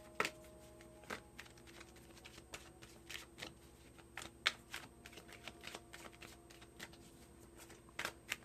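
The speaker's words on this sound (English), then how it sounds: "I'm going to try to give it a good shuffle, okay?" Quiet riffling and snapping of playing cards being shuffled, several short bursts scattered across the stretch, close and soft with no talking.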